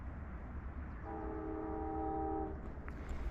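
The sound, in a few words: train approaching, sounding its horn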